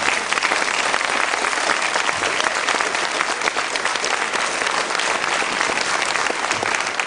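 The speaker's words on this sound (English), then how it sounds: "please applaud also for our members who are here" An audience at a New York Asian Film Festival Q&A and reception claps for members introduced onstage, a dense, even wash of applause sustained from start to finish.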